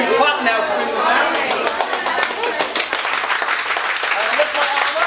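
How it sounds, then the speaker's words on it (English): A teacher claps hands to bring a noisy class back to quiet, with a burst of sharp, close claps joining the loud chatter of children in a classroom, the rhythmic clapping continuing as voices carry on underneath. "I'm going to do clap now to bring them back."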